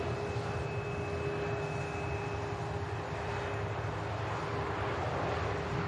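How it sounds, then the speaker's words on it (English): A Ryanair Boeing 737 Max 8 jet arriving from Brussels at Manchester Airport gives a steady, distant roar with a thin whine on top, even and unbroken throughout, no voices. "Here's the Ryanair. Inbound from Brussels."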